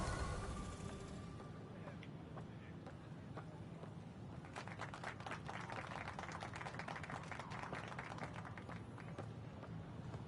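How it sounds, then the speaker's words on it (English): Scattered hand clapping in Mass Effect Andromeda, faint and somewhat distant, sounds over a steady background hum of game ambience, with soft irregular claps growing more frequent midway. "Where's that clapping coming from?"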